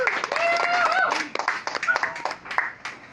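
Audience clapping at an open mic comedy show, a brief burst of scattered hand claps from a small crowd, mixed with cheering voices, thinning out toward the end.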